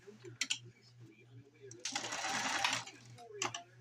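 Sewing machine stitching a fabric hem for a shop apron in reverse, a quick motor buzz lasting about a second between short bursts of clatter, with a person speaking over it.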